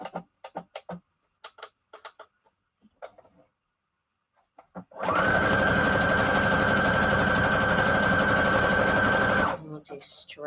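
A sewing machine zigzag-stitches fabric for a junk journal cover in one steady, loud, rapid mechanical run of about four seconds, preceded by short bursts of nearby talk and followed by a brief clatter.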